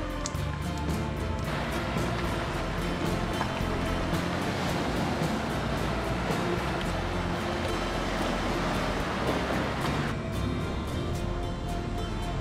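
Waves at Hin Nam Beach on the Gulf of Thailand, a continuous broadband wash of surf with wind rumble on the microphone, steady and fairly loud throughout with no voices.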